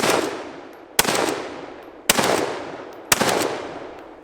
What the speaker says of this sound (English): Bang, bang, bloody bang, banging around in the background.